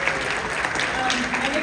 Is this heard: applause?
yes